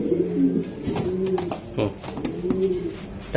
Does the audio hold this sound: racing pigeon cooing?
yes